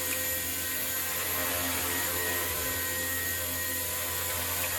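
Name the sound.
RC helicopter flying with new rotor blades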